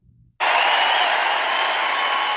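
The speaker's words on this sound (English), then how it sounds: "The crowd is cheering." A crowd at a Trump rally breaks into cheering and applause after a brief quiet moment, a loud, dense, sustained roar that carries on to the end.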